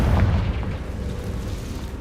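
A Confringo fire spell blast in Hogwarts Legacy, a single heavy low boom up front that rolls into a rumbling, fading tail, loud and close with no voices.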